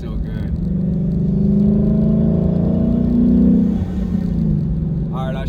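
A Lexus RC F fitted with a fuel pump booster drives along with a loud, steady engine drone that swells as it revs, heard from inside the car with faint talk near the end.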